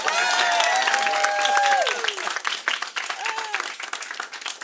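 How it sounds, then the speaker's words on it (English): Crowd applause at an outdoor rally against marketing e-cigarettes to kids, dense clapping and cheering that stays loud and then thins, with a few voices calling out over it. "A round of applause to our Comptroller, Scott Stringer."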